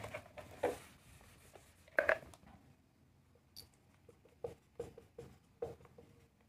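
Chalk or pen strokes writing math equations on a board or paper, a quiet scatter of short scratchy taps and strokes with gaps between them, close and faint, no talk.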